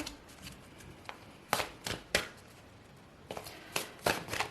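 Tarot cards are shuffled by hand close up, with several quick riffling flutters and soft slaps separated by quiet pauses.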